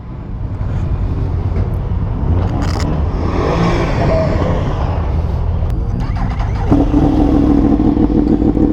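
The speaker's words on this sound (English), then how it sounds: "Everyone leaving, the revving started." Cars and a motorcycle rev their engines as they pull away from a car cruise, a loud continuous roar of engines with rising revs close by, no talking.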